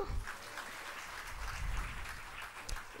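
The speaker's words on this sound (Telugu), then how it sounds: "చప్పట్లు కొడదామా?" Faint, steady clapping from a church congregation during a sermon, a soft continuous patter of many hands at a distance with no voices over it.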